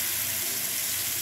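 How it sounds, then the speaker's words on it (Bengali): Marinated tandoori chicken hits hot oil over a high flame, giving a steady, close sizzle with no talk and a hiss that holds even through the brief moment. "এই যে তেলটা দেখুন গরম করতে দিয়েছি, এটা একদম হাই ফ্লেমে, তেলটা গরম হয়ে গেছে, একদম হাই ফ্লেমে এটাকে আমি ছাড়ব এইভাবে"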